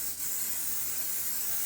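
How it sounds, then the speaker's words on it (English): Cooking spray hisses into a pan in one steady, close, continuous burst lasting under two seconds, with no talking over it. "We're just using cooking spray."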